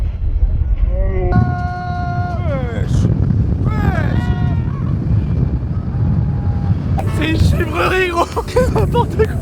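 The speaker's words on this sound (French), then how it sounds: "comme il y a trop de vent, l'objectif il se prend beaucoup trop d'eau" Strong wind buffets the camera microphone at a large water jump, producing a steady, loud low rumble throughout while people shout, whoop and talk over it.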